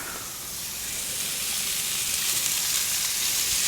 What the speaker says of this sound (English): I'm gonna grill the onions.